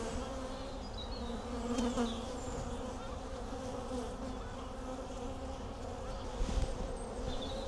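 Honey bees buzzing densely and continuously around an open hive during an inspection, a close, steady droning hum with no talking.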